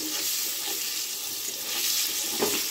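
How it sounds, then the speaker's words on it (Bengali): Spices frying in hot oil as they are stirred in a pan, a dense steady sizzle with light scraping and soft bubbling, close and continuous without speech. "তো দেখতেই পাচ্ছ তেলটা সুন্দর মশলা হয়ে গেছে।"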